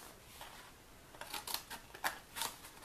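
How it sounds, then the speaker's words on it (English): Scissors snip tabs in a cardboard gift box being resized: several quiet, crisp cuts close by, spaced irregularly in the second half over a faint background, with no talking. "So we come back and again just cut our tabs."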